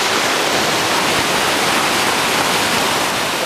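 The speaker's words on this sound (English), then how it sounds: "Water's really coming down, and it's only going to swell as the days come on." A river swollen by a high snowpack rushes steadily along a trail, a loud, unbroken wash of churning water up close with no voices.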